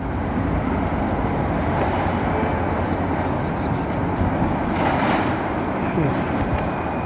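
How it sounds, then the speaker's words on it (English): A train engine rumbles loudly and steadily in an urban setting in lower Manhattan, a continuous broad roar with faint tonal whines, as a person talks over it. "That's your train engine."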